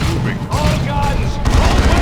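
Gunfire and explosions in the strategy game Dawn of War II, dense rattling bursts and booms layered over battle noise, loud and continuous, with a voice heard amid the fighting.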